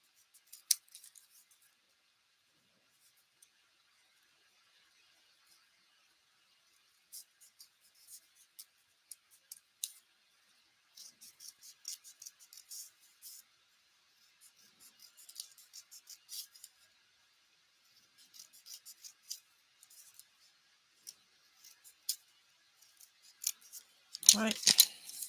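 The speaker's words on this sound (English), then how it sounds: "Now what we're gonna do is we're going to cut the edges." Scissors cut the edges of a paper card in scattered bursts of small snips and rustles, mostly faint and close up with long quiet pauses between them, ending in a louder handling noise.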